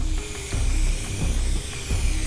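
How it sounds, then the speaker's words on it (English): A spray paint can hissing in repeated bursts indoors, close and fairly loud, with no talking. "Let's get the spray paint."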